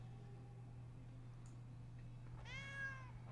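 A single drawn-out cat meow rises clearly near the end over a steady low electrical hum, with no talking.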